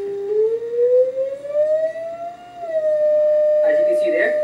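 Steady electronic tone played from an iPad, a single clear pitch that glides slightly upward before settling into a sustained hum, moderately loud, with a brief burst of other noise near the end.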